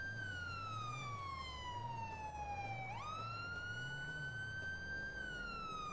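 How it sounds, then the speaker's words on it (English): A wailing emergency siren sounds in the Liberty RP roleplay video game, loud and continuous, its tone sweeping down and then back up partway through, running alone with no talk over it. "there's a siren going off."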